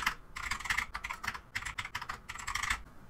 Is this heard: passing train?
no